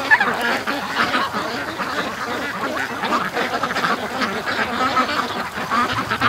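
Many free-range ducks and ducklings in a barn keep up a loud, dense chorus of overlapping quacks, near and constant.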